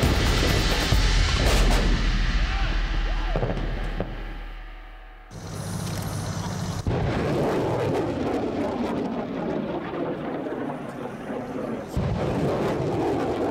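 Heavy artillery batteries firing on a battlefield, a dense rumbling barrage of booms and blasts that runs continuously and loud, with a brief dip before the firing resumes.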